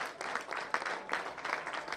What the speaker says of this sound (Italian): Dunque applausi per tutti.